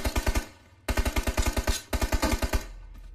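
Automatic gunfire in the PUBG Mobile video game: three rapid bursts of close, punchy shots in quick succession, separated by short pauses, with no voices over them.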